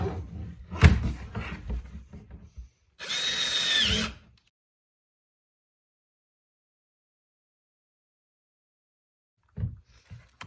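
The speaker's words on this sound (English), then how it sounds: "I'm gonna drill some holes in the top of it for air ventilation" A power drill whirs in a few short, close bursts, drilling holes in a plastic bin, the longest about a second, with a sharp high whine as it bites, then a long silence.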